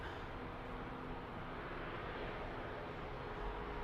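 A departing aircraft at Birmingham Airport gives a steady, distant broadband roar that holds constant throughout, with no voices over it.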